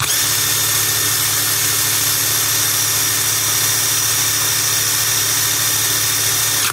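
A DEVETECH cordless impact wrench running unloaded at third speed, a loud, steady high-pitched motor whine that holds constant throughout.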